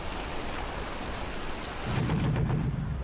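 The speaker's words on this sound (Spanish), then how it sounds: "una lluvia torrencial convierte el campo de batalla en un barrizal" Torrential rain pours in a dense, unbroken hiss over a muddy battlefield, with a deep rumble of thunder swelling in the low end midway and rolling on to the close; no voices.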